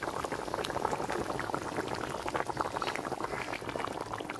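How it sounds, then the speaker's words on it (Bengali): Rui fish curry boils hard in a pan, a close, continuous bubbling and gurgling that stays steady throughout with no talking. "যে মাছ দেওয়ার পরে কিন্তু ভালোভাবে বলক উঠে গেছে ঝোলে"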